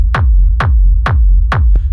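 A punchy techno kick drum run through an effect hits four times at a steady tempo, each thump loud and close with a booming low tail and a short smeared top.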